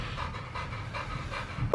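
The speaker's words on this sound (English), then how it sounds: "Look at that dog right there." A pitbull pants rapidly and loudly at close range, a steady rhythmic series of breathy huffs about three per second, ending with a brief sharper sound.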